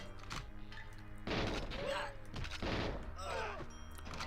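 Gunshots in GoldenEye 007, a few heavy bangs and impacts mid-clip over a steady game hum, with brief voice-like sounds in between.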